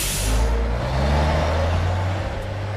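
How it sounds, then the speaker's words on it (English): A tanker truck drives past with a steady, loud engine rumble and continuous road noise, holding level throughout with no voices. "what's up with the tanker truck?"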